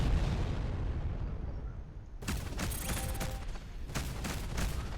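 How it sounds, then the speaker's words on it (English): An enemy ship blowing up in the space game Between The Stars: a sudden roaring blast followed by rumbling crackle and repeated heavy bursts, loud and continuous over a low engine drone. "One of the enemy ships has been destroyed."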